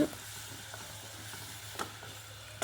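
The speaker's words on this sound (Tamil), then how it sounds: "வெங்காயம் நல்லா வதங்கினதுக்கப்புறம் நம்ம கிரைண்ட் பண்ண பேஸ்ட்டை சேர்த்து நல்லா வதக்கி விட்டுருங்க" Ginger, garlic and tomato paste sizzling with softened onions in a pan, a steady low fry with a couple of sharp stirring scrapes near the end.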